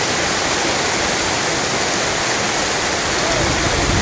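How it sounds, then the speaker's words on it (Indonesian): Heavy storm rain pours down outdoors at a kite flying gathering, a loud, continuous, dense hiss of water that stays steady throughout with no talk standing out. "Nah, hujannya seperti ini nih."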